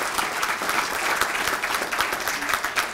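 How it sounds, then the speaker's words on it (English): Audience applause at a city fair housing luncheon in Schenectady, a steady wash of many hands clapping continuously throughout, fairly close and even in loudness. "So I would like to applaud everybody here in the city and the mayor for our actions."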